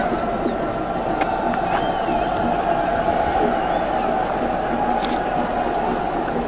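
Stadium crowd at a Pakistan vs Sri Lanka one-day international cricket match, a steady broad murmur of many voices with scattered cheers and calls throughout, no single voice standing out.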